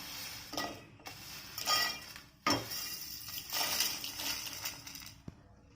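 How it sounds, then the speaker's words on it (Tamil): Whole garam masala spices tumbling into a pan as they are added for light dry roasting, a series of clinks, rattles and scrapes against the metal with a sharp knock near the middle, close and moderately loud, with no talk. "இப்போது நம்ம பாத்திரத்தில் நம்ம மசாலா எல்லாத்தையும் சேர்த்துடலாம்."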